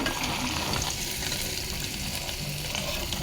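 Black cumin seeds and onions sizzle in hot oil while being stirred, giving a steady, close crackle with scraping throughout and no voices.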